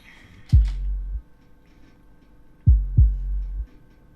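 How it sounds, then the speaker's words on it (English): Deep, booming 808 bass notes, one at first and then two close together, each ringing out with a long low decay. "So the other distinct sound would be this 808."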